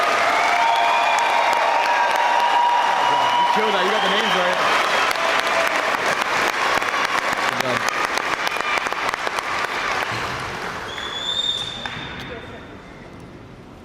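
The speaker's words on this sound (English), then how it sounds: "Please give them another round of applause." Loud applause and cheering from a crowd at an elementary-middle school 8th grade graduation ceremony for the graduating class, with speech over the clapping before it thins out near the end.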